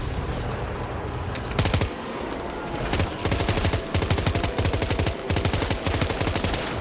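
Rapid automatic gunfire from a moving vehicle in Death Stranding 2, loud bursts of rattling shots repeating in quick runs over a steady engine rumble, with short pauses between volleys.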